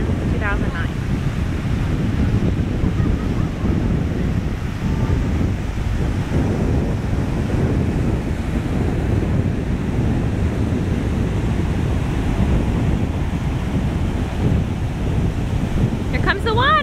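Atlantic Ocean surf rolls in continuously at a beach, a broad, steady wash of waves mixed with heavy wind buffeting the microphone, with brief voices at the start and end.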